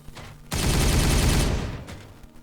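A loud, dense burst of gunfire from the Warhammer 40K Regicide game rattles for about a second and a half, then fades into a low rumbling tail.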